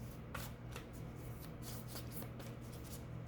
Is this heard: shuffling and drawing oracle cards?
yes